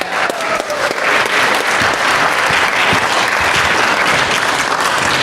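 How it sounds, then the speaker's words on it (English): Loud, dense applause from an audience at a staff orientation event, steady and sustained throughout as two people are called up to the stage. "Give them a round of applause, come on."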